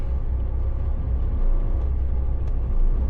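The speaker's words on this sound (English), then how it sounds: "Wait for this car." A car passes on a road with a low, steady rumble, swelling slightly near the end, with no one talking.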